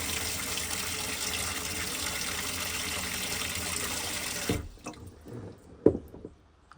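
Water runs steadily from the faucet of a Scamp camper's sink, filling it with a loud continuous rush before shutting off near the end, followed by a few clunks and drips.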